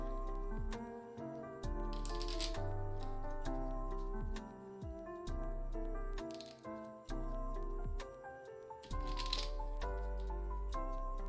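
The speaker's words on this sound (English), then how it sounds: "you take all these cards, all 3 stacks, and you're going to shuffle them together" Board game cards from three stacks shuffled together by hand, a series of crisp riffling bursts and taps with brief pauses between them, close and fairly quiet.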